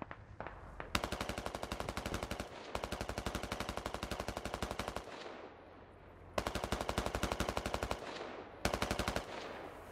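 Rapid automatic fire in a tactical military shooter game, several long machine-gun bursts with short pauses between them, loud and close, with echoing tails after each burst.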